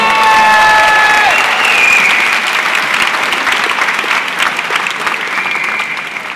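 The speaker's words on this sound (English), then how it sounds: "You can cheer that." Graduation crowd at a high school commencement bursts into loud, sustained applause with cheers and whistles, a dense wash of clapping that stays strong throughout.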